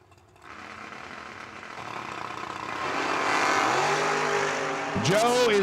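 Drag racing cars launch down the strip at an event, engines building from a far roar to a loud, rising scream, ending with a sharp high-pitched sweep as the cars pass.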